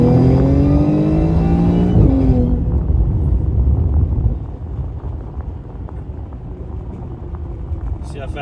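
Supercharged Audi S4 3.0T B8 pulling hard in second gear, a loud rising engine note for about two seconds that drops away into low rumble and wind noise; no talk over the engine.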